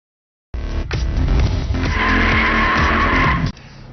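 A sedan car skids hard around a karting circuit, a loud sustained tire squeal lasting about three seconds with engine roar beneath, starting abruptly after a moment of silence and cutting off sharply.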